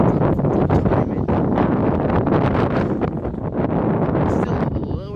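Strong gusts buffet the microphone outdoors on a windy day under blue skies, a loud continuous roaring rumble with crackling bursts that dominates throughout.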